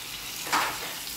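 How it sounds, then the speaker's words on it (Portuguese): Beef liver and onion frying in a pan give a brief, faint sizzle that swells for a moment and fades. "Gente, já está frito aqui o meu fígado"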